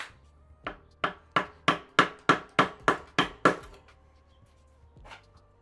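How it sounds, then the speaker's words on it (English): Wood carving with a full chisel struck by a mallet, Maori whakairo, about ten sharp evenly spaced knocks in a steady rhythm, then a pause and one last blow, close and clear. "Full chisel."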